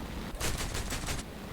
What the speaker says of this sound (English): It's their cannons, it's their machine guns